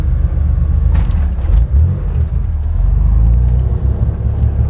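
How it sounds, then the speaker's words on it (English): Steady road traffic at the busy corner of Altamont and Hamburg in Schenectady, with loud, continuous car and engine rumble passing close by and a few brief swells as vehicles go through. "Good busy corner, lots of traffic there."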